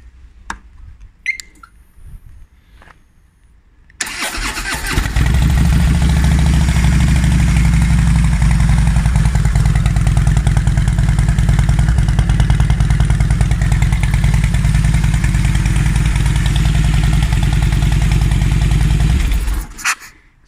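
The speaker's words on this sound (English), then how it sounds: "Lovely 2014, I think it is, Heritage Custom, and sorry, Classic, and had its Power Visions fitted, now running really brilliantly." A 2014 Harley-Davidson Softail Heritage Classic fitted with a Power Vision tuner starts after a few seconds of quiet handling noises, then runs loud and close with a deep, steady engine rumble for about fifteen seconds before cutting off.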